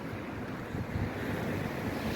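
Steady wind blows by the sea on a winter evening at Porto Rafti, with surf rushing beneath it, a continuous near roar.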